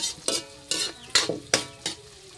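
Onion frying in a pan for ginataan with vegetables, with about six quick scraping stirs against the pan over a soft sizzle, close and fairly quiet with no talking.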